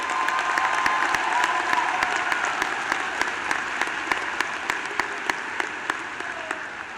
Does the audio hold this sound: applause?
yes